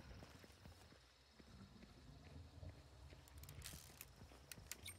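A horse in the video game Hunt Showdown, faint clip-clop hoofbeats in a quiet, noisy outdoor ambience, distant and low, with a few sharper knocks toward the end.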